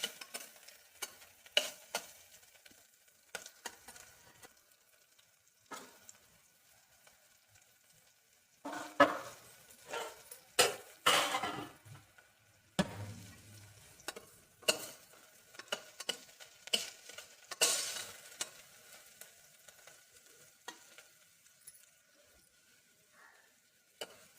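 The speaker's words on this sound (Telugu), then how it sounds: "కొంచెం ఉల్లిపాయ అనేది పచ్చివాసన పోయేంత వరకు వేయించుకుంటే సరిపోతుంది" Onion pieces fry lightly in a pan for a Telugu bottle gourd and jaggery curry, with sporadic spatula stirs and scrapes over a faint, quiet sizzle, some strokes sharper and louder, no voices heard.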